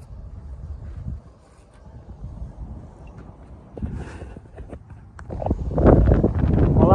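Strong outdoor wind buffets the microphone during kite flying, producing a rough, low rumbling roar that swells and eases, growing heavier toward the end, with faint background sounds mixed in.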